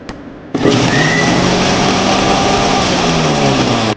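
Kitchen mixer grinder running a batch of spice powder for puliyodharai to a coarse grind: a loud, steady electric whir that starts abruptly, holds for about three seconds, then cuts off.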